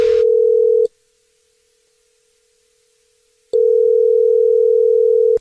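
A telephone dial tone plays for a prank phone call. It is a loud, steady, unbroken tone that cuts out for about three seconds and then returns just as strongly. No voices are heard.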